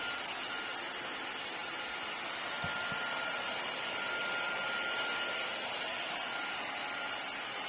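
An Ultenic AC1 Elite cordless vacuum-mop runs steadily throughout, giving a constant broadband whir with a faint high whine, and no speech over it.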